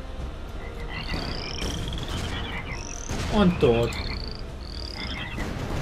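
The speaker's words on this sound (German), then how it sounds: "Ah, die Frösche." Frogs croaking in a video game, several close, repeated croaks and chirping calls in a steady chorus, with a brief spoken phrase mixed in.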